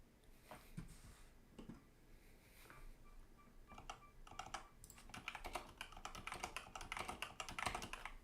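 Rapid clicky typing on a Razer Blackwood V4 mechanical keyboard with yellow switches, bursts of keystrokes growing busier and denser toward the end, close and fairly quiet.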